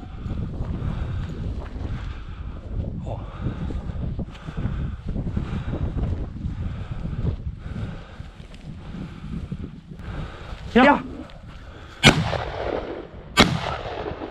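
Shotgun blasts from a ptarmigan and grouse hunt in the field: three sharp, loud reports near the end, after a long stretch of wind buffeting the microphone and rustling movement.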